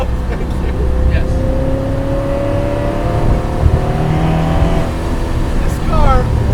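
An 800+ whp supercharged C5 Corvette race car accelerates hard, its engine and supercharger whine climbing steadily in pitch through the gears, loud and close inside the cabin with voices heard briefly over it.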